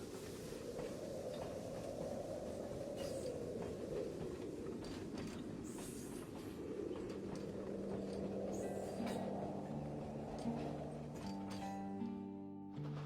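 Passenger train rolling along the rails, a steady dense rumble and rattle of wagons held close throughout, with faint tonal whines and clanks rising near the end.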